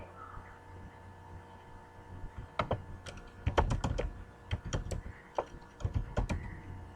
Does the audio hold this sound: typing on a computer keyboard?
yes